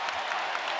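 A basketball arena crowd at an NBA Finals game, Thunder against Pacers, swells in steady applause and cheering, a broad continuous roar of many people at a distance.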